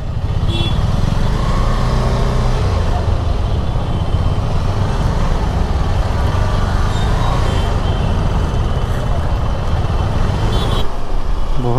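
Heavy road traffic in Uttar Pradesh heard from a motorcycle, a loud continuous roar of engines and wind with passing cars, trucks and buses blending together and occasional horns cutting through.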